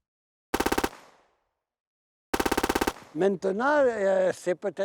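Soldiers open fire during a 1944 massacre of a French village, two loud bursts of rapid automatic gunfire separated by silence, the second followed by voices and screaming.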